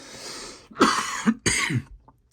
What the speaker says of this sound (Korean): 또 기침을 하고 그래.